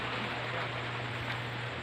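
A dense, constant hiss of heavy rain falling, steady and fairly close, with a low hum underneath and no talking.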